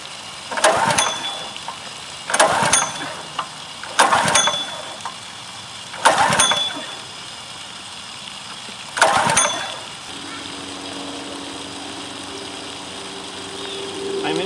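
A Honda GX200 engine on a DeWALT pressure washer is pull-started five times with choke on and full throttle. Each attempt is a sharp, separate burst that never catches, and a faint low hum follows the last one.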